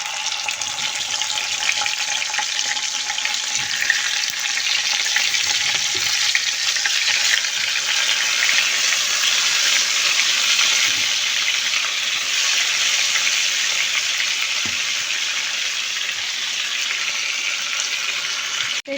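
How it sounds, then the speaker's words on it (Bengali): Marinated chicken pieces frying in hot oil, giving a continuous loud, dense sizzle with occasional faint stirring knocks, close and steady throughout. "তেলটা গরম হয়ে গেছে, এখন আমার ম্যারিনেট করা চিকেন ফ্রাইগুলো আমি দিয়ে দেবো এক এক করে"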